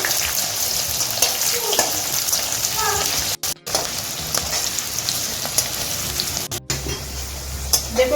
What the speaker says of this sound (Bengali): পেঁয়াজটা ভেজে নিচ্ছি